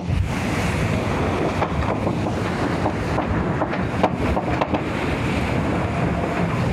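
Strong wind of about 20 knots roars over the microphone while big waves rush and crash steadily around a sailboat moving at 16-17 knots at sea.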